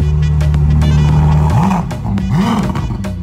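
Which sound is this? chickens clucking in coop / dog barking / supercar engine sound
supercar engine sound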